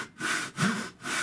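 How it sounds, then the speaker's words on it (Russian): A Japanese pull saw cuts through wood in unhurried strokes, three rasping passes in a steady back-and-forth rhythm, close and clear with no talk. "Мы пилим не спеша, а самое главное, толкаем вперед, вот практически не держась, и тянем на себя, не надавливая сильно."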